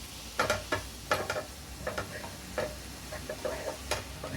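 Poppy seeds roasted to a light chocolate colour are stirred in a hot pan with the gas turned off, giving soft scraping strokes in irregular bursts over a faint sizzle, close by and without speech.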